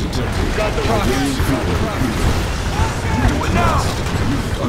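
Explosions and weapons fire from a battle in the video game Command & Conquer 3: Tiberium Wars, a dense, continuous din of booms and mechanical clatter, loud and close, with game voice lines running over it.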